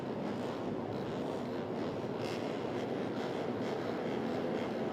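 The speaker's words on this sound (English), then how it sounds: "Hear the engine started there." Racing motorcycles in the FIM Asia Road Racing Championship fire up for the warm-up lap, a steady loud broadband engine roar from a large grid of bikes, continuous and dense throughout.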